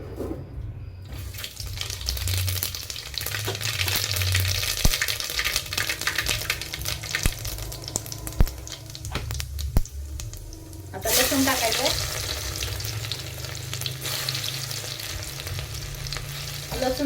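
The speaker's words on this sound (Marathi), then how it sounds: "तेल गरम झालंय आता आपल्याला ह्याच्यामध्ये जिरे आणि मोहरी टाकायची" Cumin and mustard seeds crackle and sizzle steadily in hot oil, loud and close, with a brief burst of louder spattering partway through.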